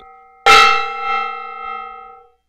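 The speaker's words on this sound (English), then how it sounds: "Alright, I banged the gong." A gong is struck once, hard, and rings out in a loud shimmering crash. The tone decays with a slow wavering swell over about two seconds.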